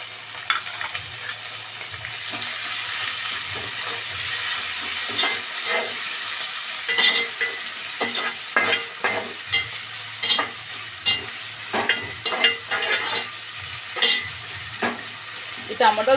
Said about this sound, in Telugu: ఈ టమాటాలు మగ్గుతున్నప్పుడే మనం దీంట్లో మెంతం కూర వేసుకుందాము